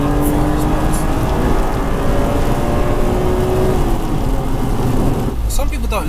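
A BMW Z4 M Roadster engine in sport mode drones steadily and loudly from inside the car. A rising whine stays under talk throughout, then fades near the end.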